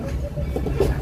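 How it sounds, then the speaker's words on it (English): A Magic Kingdom railroad train rolling into the Fantasyland station, a loud, steady rumble of wheels and carriage with a faint squeak near the end. "As we roll into Fantasyland, please remain fully seated till the train comes to a full and complete stop."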